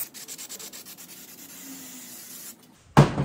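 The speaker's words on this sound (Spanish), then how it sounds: "Vamos a tomar el desengrasante y pues vamos a comenzar a rociar" Degreaser is sprayed onto an engine cylinder head being cleaned; soft rhythmic rubbing comes first, then a short, loud hissing burst of spray close by, with no talk.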